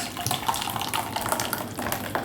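Pumpkin jelly mixture poured into a mold, a close, continuous liquid splashing and gurgling stream with small irregular spatters, moderately loud throughout.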